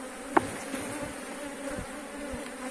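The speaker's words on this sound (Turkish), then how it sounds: "Bakın arkadaşlar arıyı silkeliyorum." A dense, steady buzz of many honeybees close by as they are shaken off a hive frame, with a single sharp knock near the start and soft rustling underneath.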